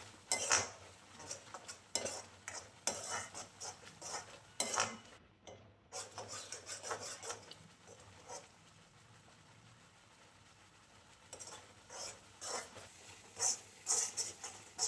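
Cardamom pounded with a little sugar in a mortar gives sharp, irregular knocks and scraping taps, clustered in bursts with pauses between, moderately close in a quiet home kitchen.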